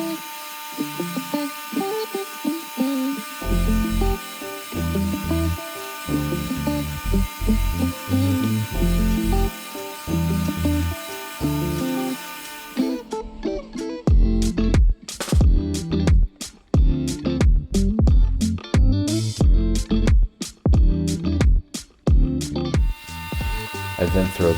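A belt sander whines steadily, its motor drone pulsing as it grinds and rounds the edges of scrap wood, growing busier and louder in the second half.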